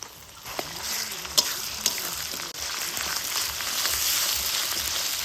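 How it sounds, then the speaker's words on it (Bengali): Onions and ground spices such as ginger, cumin and dried chilli paste fry in a pan while being stirred for a freshwater mussel curry, giving a steady close sizzle with scraping clicks and no talk. "পেঁয়াজগুলা কিন্তু বেশ ভাজা ভাজা হয়ে আসিয়া এই সময় দিব কিছু মশলাপাতি, আদা বাটা, জিরা বাটা,"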